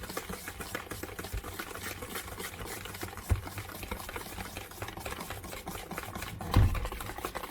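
Peach cobbler batter being mixed by hand: a steady run of quick, soft scraping and stirring strokes in a bowl, close by, with a couple of louder knocks against the bowl.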